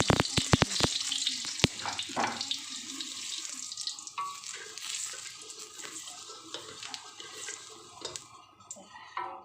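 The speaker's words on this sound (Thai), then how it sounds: "ใส่น้ำมันลงไปในกระทะ" Oil pours and hisses steadily in a hot wok, with a few sharp clinks at the start and a constant sizzling wash throughout.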